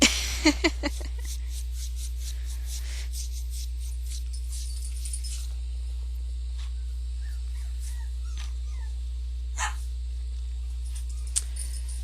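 Small puppies whimpering and yipping in short high cries, a few sharp barks early on, over a steady low hum.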